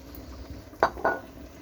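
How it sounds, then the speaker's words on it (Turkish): A whole eggplant dropped into a pot of soup, two sharp metallic clinks against the pot in quick succession over a quiet kitchen background, with no talk. "Şöyle bütün patlıcanı koyuyorum."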